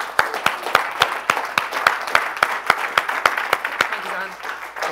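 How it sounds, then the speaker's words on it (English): Scattered audience clapping at a business partner conference, sharp individual claps in a loose, uneven rhythm over a low room murmur, moderately loud and steady for several seconds with no speech. "Please give a huge round of applause to Rob McPhun and Simon Zutshi."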